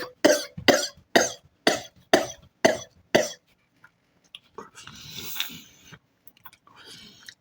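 A man coughs hard seven times in a quick, regular series of loud, close coughs, followed by quieter shuffling and mouth noises.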